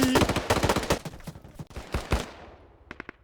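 Rapid gunfire in the video game Arma 3, a dense burst of automatic shots that tapers into scattered single shots, followed by a short trailing volley of three quick cracks.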